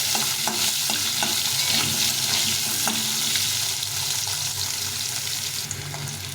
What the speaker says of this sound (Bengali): আলুগুলো খন্ড করে দিয়েছি ভালো করে ভেজে দিতে হবে